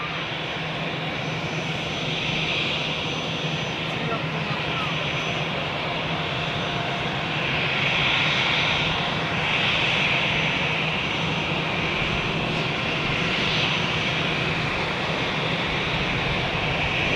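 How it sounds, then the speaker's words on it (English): Aircraft taxiing close by at Zurich airport, heard from an observation deck: a loud, steady jet engine roar with a whining tone that swells and eases over about seventeen seconds, no voices. "if there are airplanes taxiing close by, it's simply too loud to speak"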